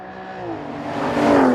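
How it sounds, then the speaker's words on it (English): A 2014 Aston Martin Vanquish V12 pulls away hard from a launch-control start, its smooth engine note climbing steadily in pitch and growing louder over the short burst. "probably the nicest V12 engine note there is"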